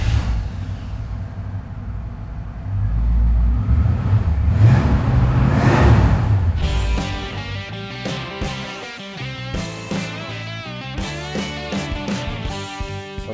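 Deep rumbling V8 car engine revs up loudly and falls back, followed by music playing.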